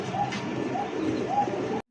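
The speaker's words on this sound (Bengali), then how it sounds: "এই মুহূর্তে দেখতে পাচ্ছেন একজোড়া এন্ডপ কবুতর ব্ল্যাক চেকের মধ্যে" Soft coos from a pair of black-check pigeons at a pigeon sale repeat about three times in a steady rhythm, close by, over a low murmur of background noise.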